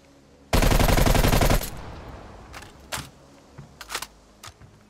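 Automatic rifle in Call of Duty: Black Ops Cold War firing one loud, rapid full-auto burst of about a second, then quieter clicks and clacks of weapon handling that sound like a reload.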